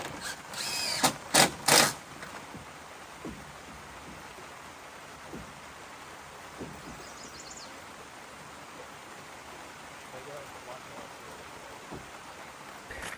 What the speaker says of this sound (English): I was thinking the rain was stopping, but I don't know now.